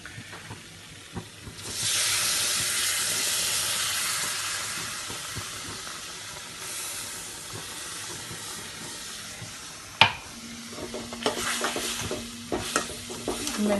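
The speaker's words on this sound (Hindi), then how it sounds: "मैं इसको दूध डाल के अच्छे से भून लूँगी" Besan halwa roasting in a pan as milk is added and stirred: a steady close sizzle and hiss with scraping stirring strokes, a sharp clink partway through, then bubbling and clattering.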